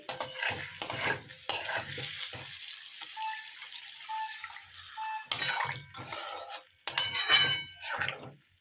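Spice paste and potatoes sautéing in a pan for a Bengali fish curry, scraped and stirred in short bursts over a quiet sizzle, with a longer lull in the middle.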